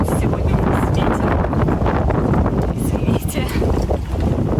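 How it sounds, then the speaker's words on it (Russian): Steady wind buffets a sailing yacht out on the water, a continuous close roar with microphone rumble; someone speaks over it throughout. "Сегодня у нас ветер,"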